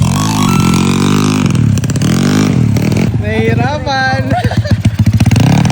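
A motorcycle fitted with an oil cooler revs loudly and close on a practice circuit in Antipolo, its engine pitch rising and falling repeatedly while people talk over it.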